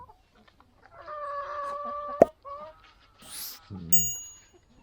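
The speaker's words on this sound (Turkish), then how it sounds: "Tavuklar." Chickens cluck and squawk in short bursts nearby, with a sharp knock partway through and a brief high crow near the end.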